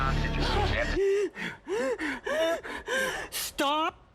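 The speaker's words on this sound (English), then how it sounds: "Stop panting." Heavy breathing and panting in a film scene, in quick breathy gasps mixed with strained voiced groans and sighs. The bursts are close and irregular and fill about four seconds.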